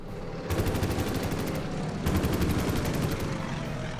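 A Focke-Wulf fighter opens fire in the WWII strategy game Order of Battle, with two long bursts of rapid machine-gun fire over a low engine rumble, loud and close.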